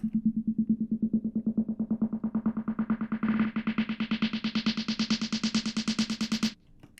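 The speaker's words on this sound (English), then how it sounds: "And then I have a snare riser." A synthesized snare riser made with Ableton stock plugins speeds up into a dense buzz, brightening and rising steadily in pitch and intensity before cutting off abruptly near the end.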